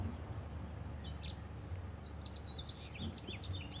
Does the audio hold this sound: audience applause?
no